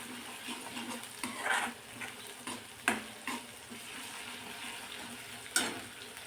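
Masala sautéing in oil for a spicy village-style amti, with a steady low sizzle broken by several sharp scraping stirs of a spoon in the pan, close and alone.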